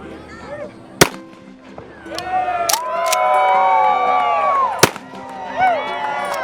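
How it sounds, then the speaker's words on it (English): Shotgun fired at a race finish line, two sharp loud blasts with another crack later, as a crowd cheers and whoops between them and people talk close by. "what mixed emotions to hear the shotgun at the finish line"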